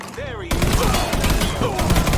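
Loud, close gunfire from a shootout in the Mafia 3 video game, with rapid overlapping shots that start abruptly after a brief voice and keep rattling without a pause.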